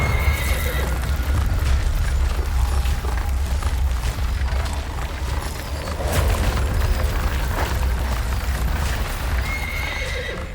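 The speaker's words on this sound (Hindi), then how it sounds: "ये सूर्य देव का रथ था जिसे उनके सारथी अरुण चला रहे थे, जिनके रथ को सदैव 7 घोड़े ही खींचते थे" Horses neighing and whinnying with clip-clopping hooves, a sound effect for the sun god's chariot drawn by seven horses, loud and continuous with rumbling booms underneath throughout.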